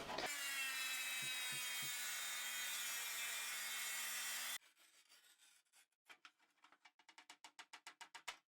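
Hand saw cutting a notch in a piece during a small bathroom remodel, heard as a quick run of rhythmic back-and-forth rasping strokes, close and distinct, after a loud steady power-tool whine that cuts off.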